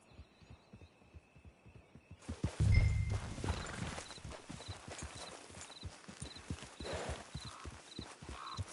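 Steady clip-clop of horse hooves in Red Dead Online, a regular rhythm of close footfalls with a brief louder thump early on and faint ambient tones behind.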